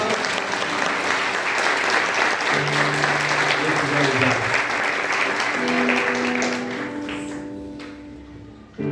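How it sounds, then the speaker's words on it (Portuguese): Church congregation applauding during a service, a loud, full burst of clapping from a crowd that tapers off near the end, with voices speaking and calling out over it. "Você pode aplaudir o Senhor por essa palavra?"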